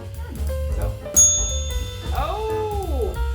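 A single bright bell ding rings out to mark a new show segment, ringing over a low background hum, followed by a sliding, meow-like sound.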